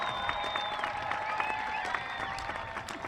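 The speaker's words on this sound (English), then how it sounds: "Give them a round of applause" Applause from an audience at a graduation ceremony, a soft, steady patter of many hands heard from a distance, with a few thin whistle-like tones drifting over it.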